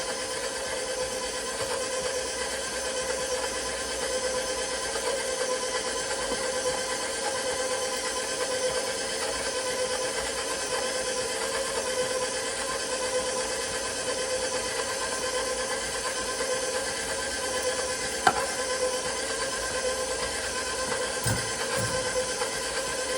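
A steady electric mixer whirs continuously through pound cake batter for an autumn spice pound cake, holding a constant drone with no pauses and only a brief clunk near the end.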